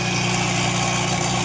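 Loud Honda car engine running with only a downpipe for exhaust, a steady raspy drone with deep low rumble throughout, close and constant with no talking.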